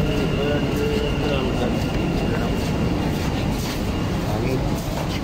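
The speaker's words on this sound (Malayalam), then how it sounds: "ട്രെയിൻ വന്നു." Dubai Metro train pulling into a station, a steady loud rumble and hiss of rail noise filling the whole clip, with a person talking over it.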